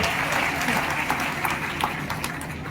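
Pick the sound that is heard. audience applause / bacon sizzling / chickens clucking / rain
audience applause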